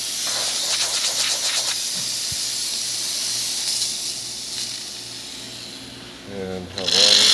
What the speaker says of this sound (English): Test the steam.